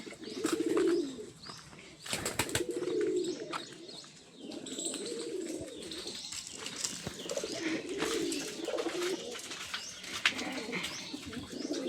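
Fantail pigeons coo in repeated low, throaty phrases close by, broken up by sharp bursts of wing flapping and rustling.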